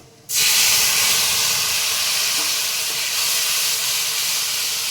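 Spice paste dropped into hot oil already tempered with whole cumin, garam masala, dried chilli and bay leaf for a vegetarian taro curry, bursting into a sudden loud sizzling hiss that stays steady and unbroken.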